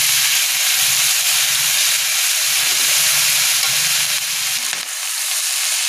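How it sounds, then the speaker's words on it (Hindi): Capsicum and carrot stir-fried in a hot pan give a loud, steady sizzle and hiss, with a brief scrape of stirring near the end and no voices. "लगभग 3 मिनट तक सभी चीज़ों को हम चलाते हुए भूनेंगे"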